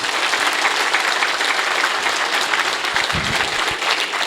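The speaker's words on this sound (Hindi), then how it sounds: "तालियों में ऊर्जा भी तो दिखनी चाहिए ना" Vigorous audience applause at a yoga and meditation retreat gathering, loud and sustained with many hands clapping at once, a few heavier claps standing out near the end.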